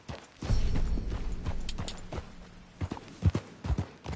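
Horse hooves clip-clopping in Red Dead Redemption 2, a rhythmic run of close hoof beats that slows to a few scattered steps near the end, with no talk.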